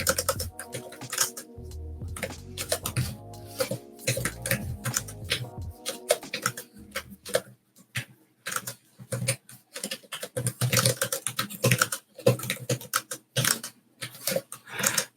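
Rapid clicky typing on a slim ThinkPad keyboard paired with an Android tablet, bursts of crisp keystrokes with brief pauses, close and clear, and a dog briefly whimpering in the background early on.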